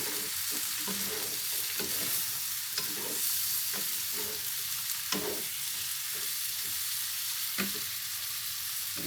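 Shrimp and pork cracklings frying in butter sizzle steadily in the pan while a utensil stirs them in repeated scraping strokes, close and clear with no talk.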